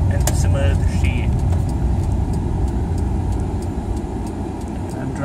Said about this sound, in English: I'm driving the Aveo.